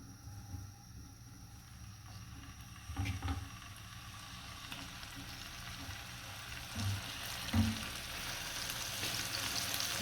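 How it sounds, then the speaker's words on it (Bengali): Rohu fish fries in hot oil with a soft, steady sizzle and spatter, a few low knocks of handling and movement, with no voices heard. "রুই মাছ ভেজে নেব প্রথমে"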